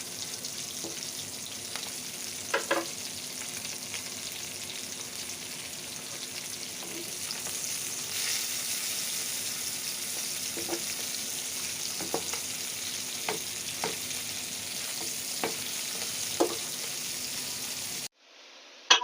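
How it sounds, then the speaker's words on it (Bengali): Fish frying in oil in a pan, with a continuous close sizzle and occasional sharper pops and crackles that runs for about eighteen seconds before cutting off abruptly. "তো মাছ ভাজা শেষ"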